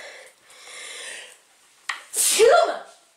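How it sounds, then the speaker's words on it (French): A close, sharp sneeze bursts out after a couple of quick breaths, loud and sudden, trailing off into a short exhale. "Je vais encore éternuer"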